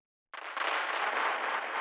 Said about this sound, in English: What I've done is I've pitched it down a lot. This is down like a few octaves.